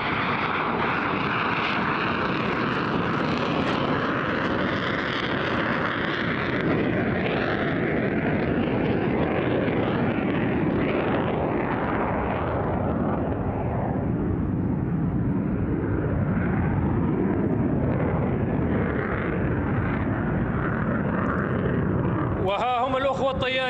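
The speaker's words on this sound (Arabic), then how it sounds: "يقوم الطيار الآن بعزف طائرته بالطيران بسرعات منخفضة." A Pakistani Thunder jet flies at low speed during an air show. A loud, broad roar holds steady for the whole stretch, and a voice speaks over it.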